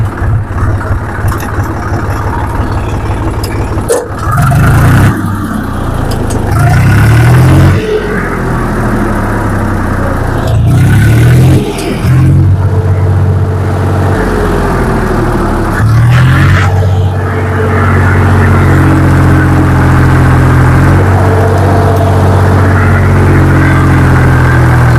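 A Swaraj 735 FE tractor from 2011, fitted with a big silencer, runs with a steady low diesel throb and revs up in several loud surges before settling back to idle, with no talk over it.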